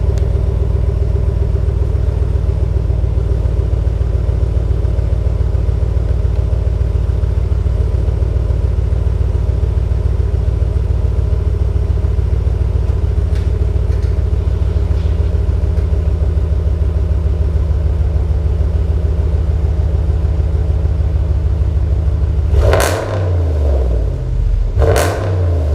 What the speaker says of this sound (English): go ahead and rev it for you guys